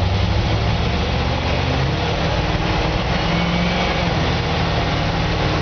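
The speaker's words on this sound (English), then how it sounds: "You can hear that transmission shift out perfectly smooth." A 1956 Chevy truck engine roars steadily as it accelerates, a loud continuous rumble with no pauses, captured close up.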